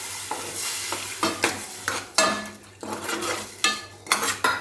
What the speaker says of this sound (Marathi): आता आपले मसालेसुद्धा परतून झालेत तर आता आपण आपली मांदेली घालूया